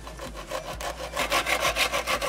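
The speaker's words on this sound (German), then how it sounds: "Verwende jetzt zum Sägen am besten eine feinzackige Säge, kann auch eine Metallsäge sein" A fine-toothed saw cuts through plastic during a sink installation, a close series of about a dozen rasping back-and-forth strokes that grow louder and faster as the cut goes on, with no talk.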